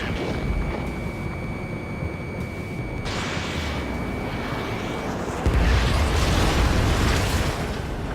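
In the Ace Combat 7 flight game, a missile explodes near the player's aircraft: a continuous roar of jet engines swells into a loud, broad blast about halfway through, with a high tone fading out before it.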